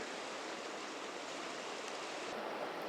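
Steady rushing water of the Trinity River flowing outdoors, a broad, even hiss of current that stays constant and fairly close throughout, with no voices.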